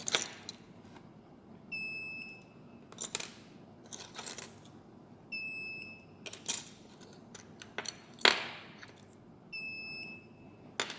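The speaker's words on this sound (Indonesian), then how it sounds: "ada tulisan access granted, kemudian LED dan buzzer menyala" An Arduino RFID reader's buzzer beeps in short tonal bursts after card scans. Several separate beeps come between clicks and handling noises, close and fairly clear.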